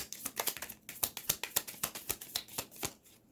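Tarot cards being shuffled close up, a quick run of crisp riffling flicks and soft slaps repeating steadily for a few seconds, with no voices.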